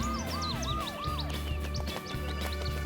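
An ambulance siren wails continuously in a pulsing, sweeping pattern, loud and close, with a low engine-like drone beneath it and no talk.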